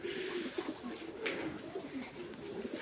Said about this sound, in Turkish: Kuşları doyuralım.